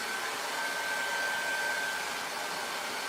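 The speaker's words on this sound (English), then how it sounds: "Can you guys hear Megan okay? With this blower going?" A blower runs steadily indoors, a constant broadband whoosh with a faint whine, loud and close, with no talk over it.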